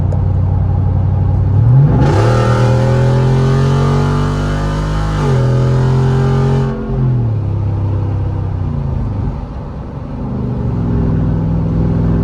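A loud, raw straight-piped 5.0 V8 in a Jeep Wrangler Rubicon 392 revs hard through rising gears, a burbling roar climbing in pitch with each shift, then settling into a steady drone.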